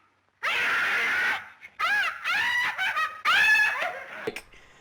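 A voice imitating a woman screaming over and over in an exaggerated, over-the-top way, in several loud, high, wavering bursts with brief breaks between them.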